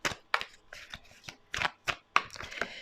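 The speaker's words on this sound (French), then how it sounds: "Pourriez-vous faire sauter 3 cartes s'il vous plaît?" Tarot cards shuffled by hand in a quick run of crisp riffling bursts, about eight close, loud flutters in under three seconds.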